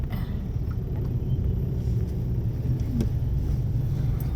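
Street traffic in Ho Chi Minh City, Vietnam, crowded with motorbikes, scooters and cars. It comes through as a constant low engine rumble and road drone with occasional passing whines, and no clear speech.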